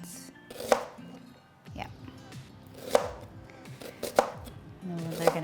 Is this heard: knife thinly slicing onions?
yes